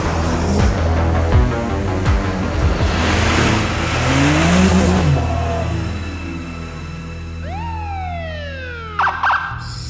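A Porsche 911 Dakar accelerating hard along a gravel road in rally mode, its engine loud and close with rising revs, while a police siren wails and sweeps nearby toward the end.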